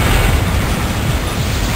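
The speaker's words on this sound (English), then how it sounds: "I got hit with a fusion cannon." Fusion cannon hit in the Descent video game: a loud, roaring burst of explosive noise that fills the whole moment, close and harsh, with no voices over it.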